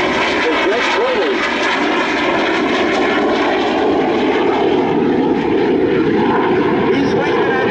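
A jet aircraft's turbine runs at an air show in Gatineau, a loud, sustained engine whine and rumble that holds steady throughout, with voices talking over it.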